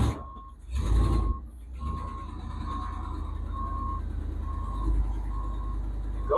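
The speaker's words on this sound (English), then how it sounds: "It's got a backup alarm." A steady mid-pitched reversing alarm beeps repeatedly at an even pace over the low rumble of an idling truck engine.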